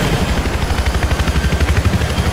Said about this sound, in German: Ah, hier ist ein Heli.